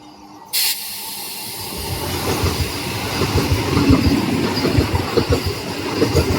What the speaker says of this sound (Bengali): বিবেক এক্সপ্রেস বেরিয়ে গেছে আবারও আসছে পুরী ইন্টারসিটি